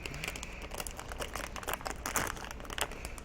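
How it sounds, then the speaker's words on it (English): A plastic bag holding a boxed collectible is pulled open and handled, giving a close, loud run of crisp crinkling and rustling bursts with no voices. "It's in a plastic sack now"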